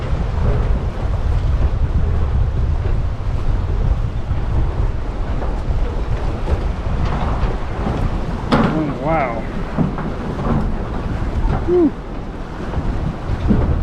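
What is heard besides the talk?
strong storm wind from Hurricane Helene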